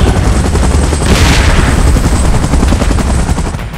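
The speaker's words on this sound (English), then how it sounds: "Chopper in position." A helicopter in the game PUBG Mobile thumps loud and close in a constant, dense roar with a brief rising whoosh, and no voices are heard.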